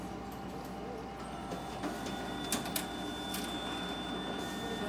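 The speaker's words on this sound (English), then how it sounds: "I'm gonna go ahead and just print some information pages." A Xerox AltaLink B8065 office printer runs steadily while printing information pages, with a continuous mechanical whir and a few soft clicks and thumps.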